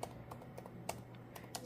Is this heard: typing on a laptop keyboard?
yes